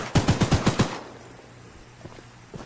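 A rapid burst of six gunshots from the Woo Woo Train video game rings out loud and evenly spaced, followed by quiet background and a couple of faint thuds.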